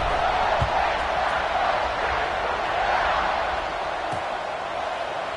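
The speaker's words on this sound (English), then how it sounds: "this crowd is buzzing after that last score" A football stadium crowd buzzing after a score, a dense, steady roar of many distant voices with a few faint thuds, continuous and fairly loud.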